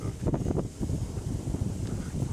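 Wind blowing steadily outdoors, a broad low rumble buffeting the microphone close up, with gusty swells and no voices.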